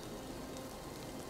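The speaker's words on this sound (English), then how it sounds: "Ooh, it's raining? Oh, I love that sound." Steady rainfall in the video game Four Sided Fantasy, a soft, even hiss of drops pattering without a break, faint and continuous with no other sounds standing out.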